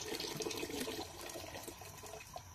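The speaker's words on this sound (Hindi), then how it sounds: "ये देखिए मैं इसको प्रेशर में डाल दिया। साथ में मैं यहाँ पे पानी ऐड कर रही हूँ तकरीबन 1 लीटर।" Water pours into a pressure cooker in a home kitchen for cooking black chickpeas, a steady splashing stream that runs quietly and continuously before easing off slightly toward the end.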